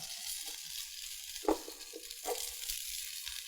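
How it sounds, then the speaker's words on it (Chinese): Scallion and ginger crackle in a wok of hot oil as the sauce for Shanghai-style fried smoked fish begins, a fairly quiet sizzle with a few louder pops and spits near the middle. "葱姜，我们就给它爆香。"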